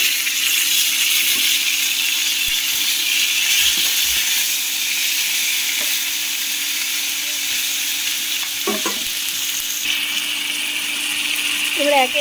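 Tomatoes dropped into a pan of sizzling ginger paste, green chilli and cumin seeds give a loud, steady frying hiss throughout, with a few faint clinks and stirring knocks close by.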